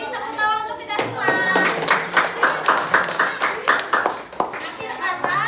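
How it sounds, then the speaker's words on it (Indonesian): Rhythmic group clapping in a classroom, a steady beat of claps with children's voices talking over and between them. "Beri tepuk tangan untuk kita semua."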